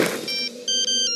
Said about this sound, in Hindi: मैं अभी राज और मीरा को फोन लगाता हूँ।